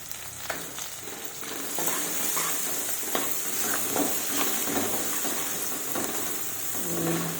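A spoon stirs dal with salt and turmeric in a pot over a steady sizzling hiss, with scraping strokes and small clicks recurring close up, no voices.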